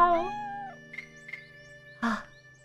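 A cat meowing in a cat-finding video game, a rising-and-falling meow followed by softer chirps and a short final meow over a steady synthetic game tone.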